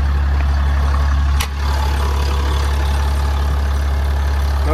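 Cummins 6.7 liter diesel in a 2018 Dodge Ram 5500 HD 4x4 truck idling steadily, a deep continuous low rumble held close and loud throughout with no talk.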